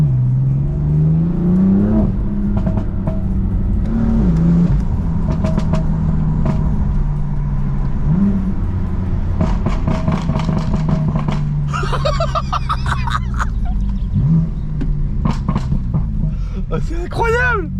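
Toyota Supra MK3 engine hums and surges as the car accelerates, with rising revs and bursts of exhaust crackle toward the end. Someone talks excitedly over it from inside the car.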